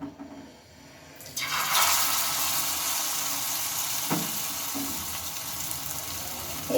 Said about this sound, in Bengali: এবার এগুলোকে আমি একটা একটা করে তেলে ছেড়ে নেব